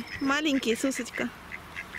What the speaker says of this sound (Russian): Смотри, уточки спят прямо рядом с нами.